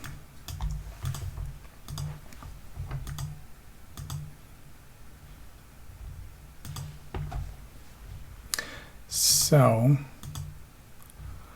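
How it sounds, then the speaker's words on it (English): A computer mouse gives a series of crisp, light clicks, some in quick pairs, spaced across a quiet room. A voice speaks briefly near the end. "Now double click, double click, double click."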